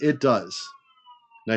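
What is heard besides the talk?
sirens in the background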